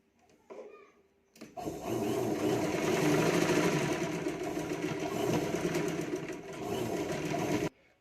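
After a brief soft rustle, a sewing machine starts up and hums in a steady, continuous whir while stitching a katori blouse neckline, then stops abruptly near the end.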